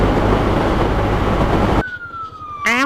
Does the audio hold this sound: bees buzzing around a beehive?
no